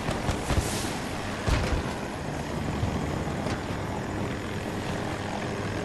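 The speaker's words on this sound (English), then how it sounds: "oh, that's a friendly helicopter." A helicopter in a video game flies overhead with a dense, steady rotor roar, loud and close, with a few sharper thumps early on and no talk.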